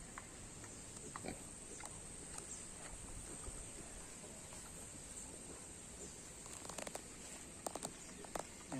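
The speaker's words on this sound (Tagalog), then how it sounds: "Mga cute na baboy." Small piglets on a farm give faint, scattered grunts and snuffles at a distance, with a few sharper clicks and knocks near the end over a constant quiet background.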